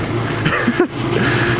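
A Yamaha Banshee 350 two-stroke quad engine drones steadily at close range, rising briefly in pitch midway through before settling back to a constant buzzing idle.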